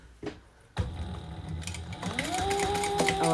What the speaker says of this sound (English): let's sew that together at the seam allowance